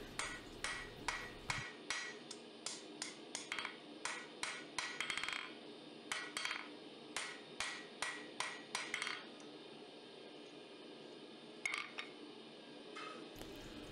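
Hammer strikes on hot steel bar over an anvil, rounding the corners of a hand-forged bottle opener; a steady run of ringing close blows with short pauses, then a few scattered final taps, no talking.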